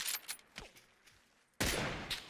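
Bursts of rapid gunfire in PUBG crackle in short volleys, then a loud sustained burst of shooting fills the end.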